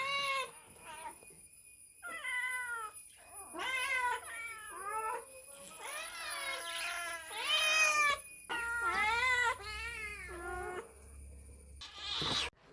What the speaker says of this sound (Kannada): ಮನೆಗೆ ಮೀನು ತಂದರೆ ಬೆಕ್ಕುಗಳ ಅವಸ್ಥೆ ಕೇಳಬೇಕು ಅಂತಲಿಲ್ಲ, ಅವು ಮತ್ತೆ ಸುಮ್ಮನೆ ಕೂರುವುದೇ ಇಲ್ಲ